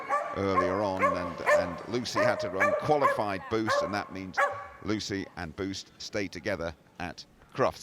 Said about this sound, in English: You can hear him barking all the way around